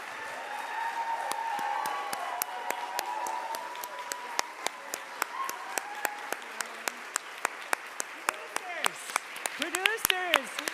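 Sustained applause from an audience, dense steady clapping with sharper individual claps standing out, some voices and whistles mixed in near the end.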